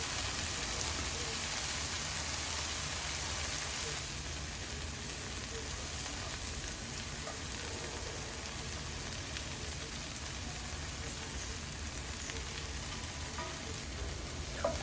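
Shrimp frying in a pan with vegetables, part of a veggie-heavy stir-fry, give a steady, dense sizzle like light rain that keeps up evenly, close and moderately loud, with no talking.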